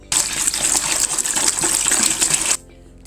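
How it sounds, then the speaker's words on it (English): Five liters of water pour into a bowl in a loud, gushing splash that runs steadily for about two and a half seconds, then stops abruptly. "pour the 5 liters of water into your bowl"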